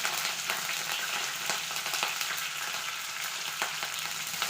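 Onion frying in hot oil with green chillies and curry leaves for uppittu, a steady close crackle and sizzle with occasional sharper pops and no voices.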